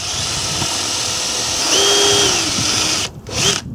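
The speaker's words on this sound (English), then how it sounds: "get a couple of pilot holes drilled" A power drill bores pilot holes into wood while building roof boxes for a narrowboat, a steady close whine with the motor pitch rising mid-way before briefly cutting out and spinning up again.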